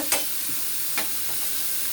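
Oil sizzles in a steady high hiss, with a couple of short stirring scrapes breaking through; no voices.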